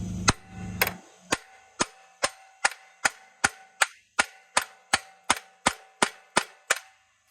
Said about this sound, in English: just take my hammer, I think, and give this a shot